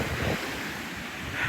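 Rough ocean surf churns during a tropical storm, with waves crashing in a constant loud roar, overlaid by strong gusting wind buffeting the microphone.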